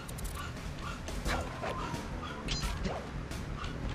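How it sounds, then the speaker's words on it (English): A household dog barks several times in short bursts, somewhat distant, over a steady bed of other sound. "Is that my dog barking?"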